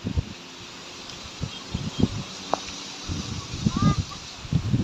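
A strong wind gusts along a residential neighborhood street, blowing and buffeting with rustling noise and uneven swells. Faint background activity sits under it, with no clear talk.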